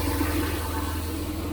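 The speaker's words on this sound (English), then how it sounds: "Now I'll start running some rinse water in there." Rinse water rushes steadily into a crop sprayer tank, a constant full gushing flow.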